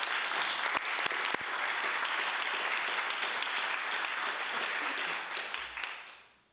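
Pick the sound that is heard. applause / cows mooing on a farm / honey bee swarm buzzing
applause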